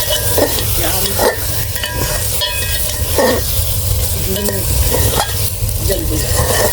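Four potatoes fry in a pan under steady, loud sizzling, with repeated spoon stirs and scrapes about once a second, close and with no voices.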